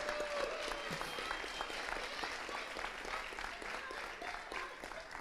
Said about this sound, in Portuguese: Uma salva de palmas ao Senhor pela vida dele.